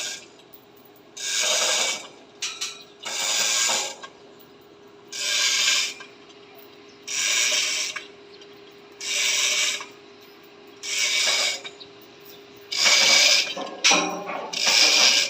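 Screws on a roof truss being tightened with a ratchet, about nine evenly spaced bursts of close, rasping clicks separated by short quiet gaps.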